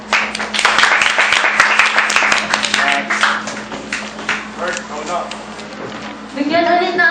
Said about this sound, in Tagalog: Bigyan ulit natin siya ng masigabong palakpak.